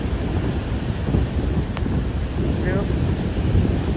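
Niagara Falls roaring and throwing up spray, heard as a loud, steady, wind-buffeted wash of broadband noise that never lets up.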